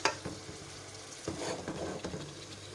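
Mutton sizzling with ginger garlic paste in a pan over high heat, stirred now and then; a steady, fairly soft frying hiss with light scraping strokes, no voices.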